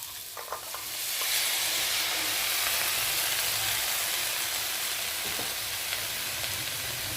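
Chopped pumpkin greens hit a hot pan and are stirred. After a brief scrape, a loud, steady frying hiss swells and holds, broken by occasional faint utensil knocks.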